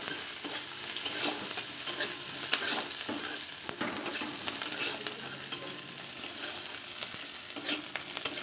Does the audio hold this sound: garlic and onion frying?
yes